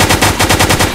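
Loud rapid bursts of automatic gunfire in Minecraft on a BlockZ server, about eight evenly spaced shots in one second with no talking.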